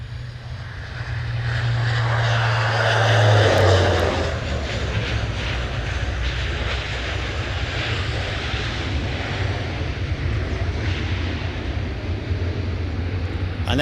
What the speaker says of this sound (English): that's a really good example of using propeller reverse